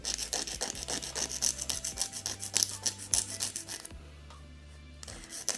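A nail file, held at an angle, rasps rhythmically against a gel nail capsule in quick back-and-forth strokes, close and clear, then pauses briefly before resuming.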